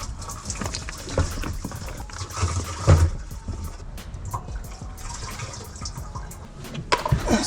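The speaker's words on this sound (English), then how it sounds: "So fill your bucket up with water," Water pouring and splashing into a bucket in a garage while working on a Nissan 300ZX fuel system, a steady rushing fill with a few louder sloshes and no talk.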